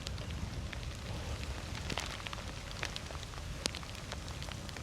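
Steady rain falls during a bike ride on the Ohio to Erie Trail, a dense, even hiss and patter of drops with a few sharper splashes and no talk.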